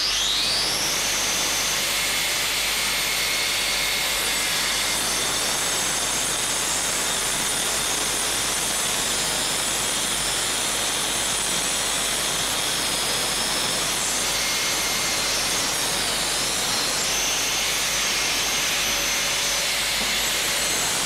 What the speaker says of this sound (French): j'utilise notre système de tronçonnage diamant DSC AG 125